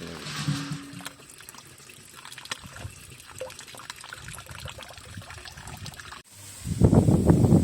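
Fresh water pours into a clay jar of farmed catfish outdoors, a steady trickling and splashing that swells into a loud, close gush near the end.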